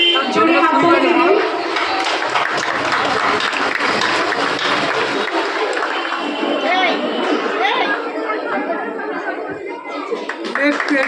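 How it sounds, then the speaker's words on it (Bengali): At a school prize-giving event, an audience claps for a student receiving an award, with a loud, continuous wash of applause mixed with crowd chatter and voices talking throughout. "জোরে হাততালি দিন।"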